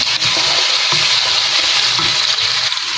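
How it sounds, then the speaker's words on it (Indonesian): Vegetables with soaked dried shrimp being stir-fried in a pan, a steady loud sizzle with scraping stirs throughout and no talking. "Untuk masaknya saya tumis ya semuanya ya."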